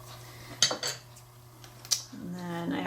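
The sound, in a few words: scraping the outer side of a tip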